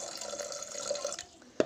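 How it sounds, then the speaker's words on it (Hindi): Water trickles and splashes into a vessel of washed sticky rice, a soft continuous pour that stops abruptly near the end, followed by a brief sharp clink of a container, quiet and close. "तो पानी में आप लोग को डाल के दिखाती हूँ।"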